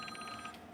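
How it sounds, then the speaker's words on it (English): A telephone rings with an incoming call, a quiet electronic ringtone pulsing in a steady repeating pattern, faint and slightly distant, with no talk over it. "Why am I getting a phone call from Florida?"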